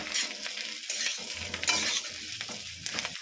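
Katla fish pieces drop into a sauce of tomato and soy in a pan, sparking bright crackling sizzle and stirring scrapes that come in uneven bursts, close and moderately quiet.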